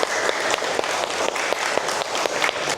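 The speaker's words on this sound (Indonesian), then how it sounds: "Tepuk tangan untuk kita semua." A group claps together in a classroom-style session, an even, close patter of many hands with some sharper individual claps standing out, sustained briefly.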